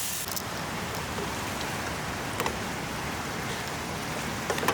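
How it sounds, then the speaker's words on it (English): Steady rain falls outdoors at a campsite cooking spot, an even close hiss of drops with a few sharper pattering hits. "Of course, right as I start cooking, it starts to rain"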